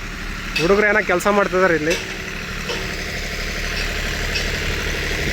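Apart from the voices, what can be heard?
generator running at railway construction site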